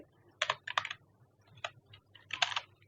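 Typing on a computer keyboard, several short bursts of keystrokes with brief pauses between them, close and clear over a low steady hum, with no talking.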